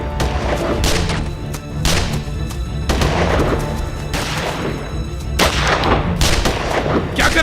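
Gunfire in a Hindi/Urdu dubbed drama, a series of loud booming shots and bursts with echoing tails, some overlapping like a fusillade, filling the whole stretch.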